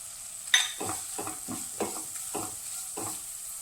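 A spoon stirs a rose apple pickle mixture with fenugreek powder and salt in a pan, giving about six distinct, regular scraping strokes over a soft sizzle, close and clear with no voices.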